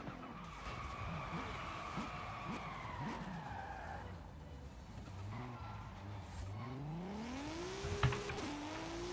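A Ferrari F40 Competizione accelerates hard, its engine note rising steadily through the gears with tire squeal and skidding mixed in, loud and close, with a brief sharp burst near the end.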